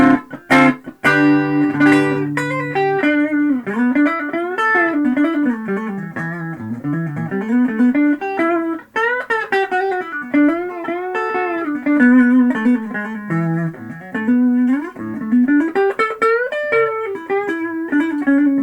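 A clean 1981 Westone Thunder 2 electric guitar on the neck pickup in humbucker mode, tone full, plays through an amp a continuous, melodic line of single notes and chords, loud and alone, with no talking.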